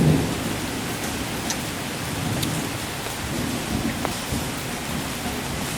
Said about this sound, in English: I'm looking forward to just sitting here and listening to it rain